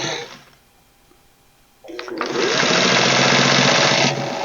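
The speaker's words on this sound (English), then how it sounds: "And just stitch this closed." A sewing machine stitches a fabric pedal bag closed. After a brief voice and a quiet pause, the motor starts up and runs in a loud, steady, close whir until the end.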